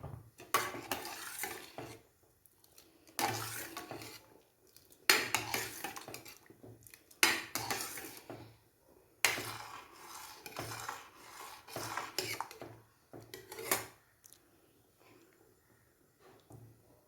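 A spoon scrapes and rasps through oats payasam made with milk and jaggery in a pot, in repeated bursts of stirring separated by brief pauses, close and moderately loud.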